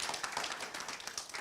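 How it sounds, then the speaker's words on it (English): Applause from an audience honouring panelists at the close of a talk on food as medicine: dense, steady clapping of many hands throughout, with no talk over it. "Let's give them a round of applause again"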